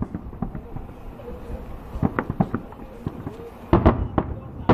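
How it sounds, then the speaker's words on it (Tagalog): Irregular pops and crackling bangs of fireworks go off at a distance, scattered and uneven, while people chatter over them, during 2010 Eid al-Fitr celebrations in Riyadh, Saudi Arabia. "Talagang pinaganda ng China ang fireworks nila."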